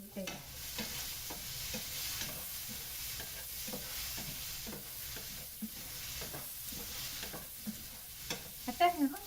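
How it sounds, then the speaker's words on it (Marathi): Half an onion fries in a hot-oil tempering for a dal and drumstick curry, giving a steady, moderately loud sizzle throughout with repeated scraping and stirring sounds in the pan. "आम्ही फोडणीला टाकत आहे अर्धा कांदा"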